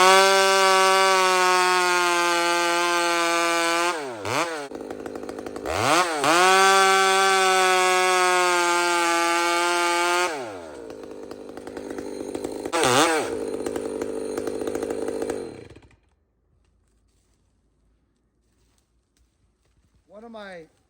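A chainsaw bucking a log on a side hill runs loud and close at high revs, twice dropping toward idle before surging again, then cuts off, with a brief restart blip near the end.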